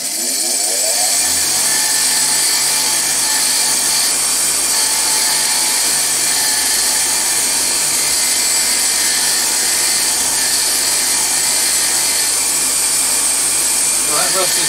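A wire wheel scours deep rust from a small axe head during a restoration, giving a loud, continuous whirring grind that runs close and unbroken from start to finish.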